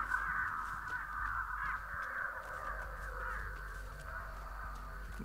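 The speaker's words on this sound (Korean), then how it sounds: "한 군데 가만히 있으면 까마귀 네 머리가 왔다 갔다 한다" Crows caw repeatedly over a swamp map in the video game Dead by Daylight, with harsh overlapping calls at steady volume above a low ambient drone.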